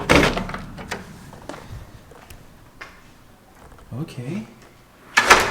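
A big black front door on a house swings open and shuts with a heavy thunk at the start and another at the end, amid softer knocks while a person briefly speaks.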